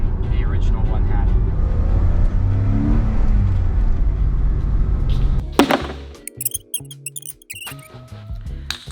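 Porsche engine droning steadily from inside the car while driving, a low rumble with a brief rising rev, then cutting to quieter, sparse sounds for the final seconds.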